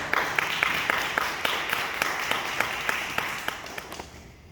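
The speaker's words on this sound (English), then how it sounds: "Give him a round of applause." An audience at a discussion following a documentary screening applauds in a dense, lively round of clapping, with sharper individual claps standing out as it gradually thins and fades at the end.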